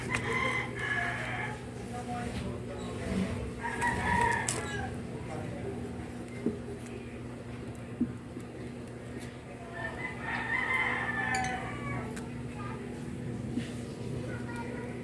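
Chickens cluck and roosters crow intermittently in an outdoor yard, with a steady background hum and occasional faint voices.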